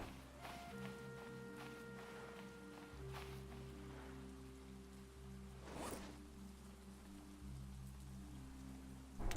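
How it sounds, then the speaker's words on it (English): Rain in the survival game Stranded Deep, a soft, continuous patter of drizzle, quiet and steady, with sustained droning tones from the game underneath and a brief brighter swish midway. "Oh, it's raining."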